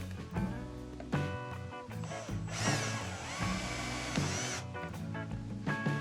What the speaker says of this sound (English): You're going to want to make sure that you drill all of those out.